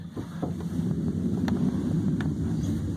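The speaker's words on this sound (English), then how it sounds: "I definitely hear the roar of a jet engine" Military jets flying overhead during National Guard maneuvers, heard as a steady low, continuous roar that stays even throughout, with no voices.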